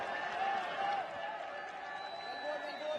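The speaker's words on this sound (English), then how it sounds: "Crowd roar." A cricket crowd at a Nepal versus Oman one-day international cheers and claps as runs are scored, a broad, distant roar that stays fairly soft beneath a commentator's voice.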